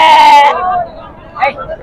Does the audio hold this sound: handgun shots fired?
no